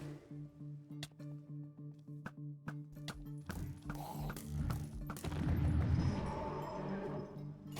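Bombs go off inside a desert temple in Minecraft with the DragonFyre medieval RPG mod: a steady run of sharp mechanical clicks, then a swelling cluster of rumbling, crackling blasts that grows louder and denser toward the end.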